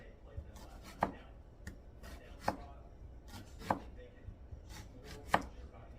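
A knife chops through a whole onion on a cutting board in a home kitchen, five sharp, evenly spaced thunks sounding close and clear against quiet background rustle.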